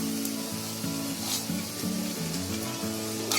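Ground masala frying in oil with onion and curry leaves, a continuous close sizzle under a low, wavering tonal hum that runs through the whole stretch.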